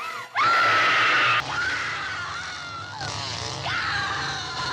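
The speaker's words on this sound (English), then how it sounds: "Scream for your life." A man screams loudly on cue as a mock horror-movie victim, one long sustained shriek followed by several more strained, wavering yells, close to the microphone with no other sound.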